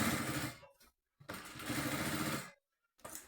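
Sewing machine stitching a suitcase, two close, loud runs of roughly half a second and over a second separated by silence, with a brief third start at the end.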